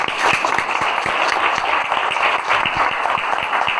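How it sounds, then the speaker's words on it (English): An audience at a school district superintendent's middle school transition presentation claps steadily, a dense, continuous patter of many hands at close range with no talking over it. "So could we give all of them a round of applause as well?"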